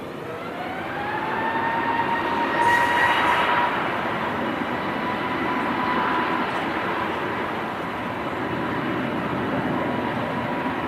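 An Airbus A320neo takes off at Manchester Airport, heard from a distance as a broad, rising engine roar with a faint whine that swells and then holds steady.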